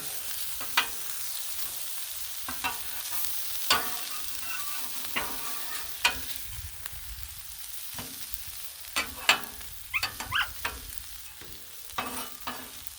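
Breakfast food sizzles steadily on a hot Blackstone flat-top griddle, with a constant frying hiss punctuated by scattered scraping taps of a metal spatula turning and moving the food.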